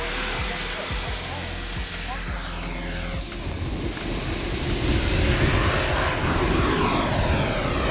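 A 90mm RC model jet, a Freewing Ares or FMS Avanti, flies past with a steady loud turbine whine and roar, a high-pitched tone sweeping over broadband rush, under spoken narration.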